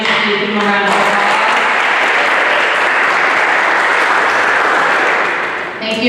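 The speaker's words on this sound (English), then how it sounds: "Please give them a round of applause." Audience applause at an inaugural leadership summit on a college campus, a dense, loud, sustained clapping for several seconds that tapers off at the end.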